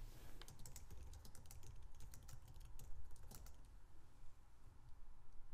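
Steady, quick typing on a computer keyboard, entering text by hand for a landing page; fairly faint, close clicks with no talking.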